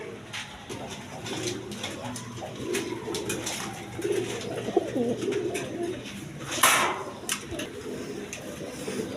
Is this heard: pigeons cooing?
yes